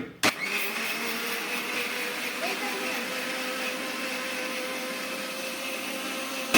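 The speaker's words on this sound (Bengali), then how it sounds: "এবার আমি মিক্সচার মেশিনে পিসবো, এই পুরো সব চাল এখানে মিক্সচার মেশিনেই পেশা হবে।" An electric mixer grinder whirs loudly as it grinds raw rice into flour in a home kitchen, starting abruptly and holding a steady high-pitched motor whine, with a voice speaking over it.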